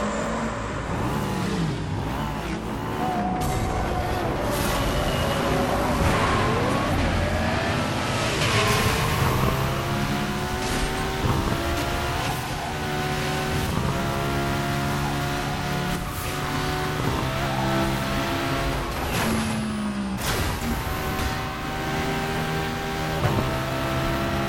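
Racing car engine in Burnout Paradise, revving and shifting through gears at high speed, with rising and falling pitch sweeps over steady road roar, loud and continuous throughout.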